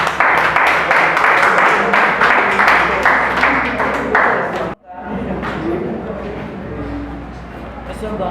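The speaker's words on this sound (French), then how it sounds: "Applaudissements." Dense, steady clapping from a crowd at a wedding ceremony fills most of the clip, then breaks off abruptly into a quieter murmur of room noise and voices.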